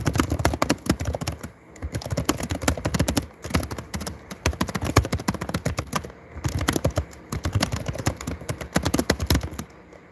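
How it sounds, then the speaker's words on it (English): Rapid, irregular clicking of a computer keyboard being typed on quickly, close and fairly loud, with brief pauses between bursts of keystrokes. "So yeah, just quickly typing something to someone."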